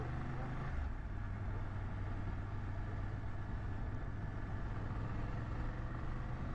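A 2024 BMW F 800GS motorcycle runs on a bumpy country road, its engine a steady low drone blended with wind rush, continuous and even throughout, close to the rider.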